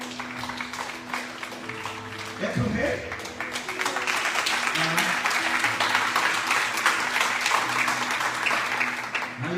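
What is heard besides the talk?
congregation applauding in church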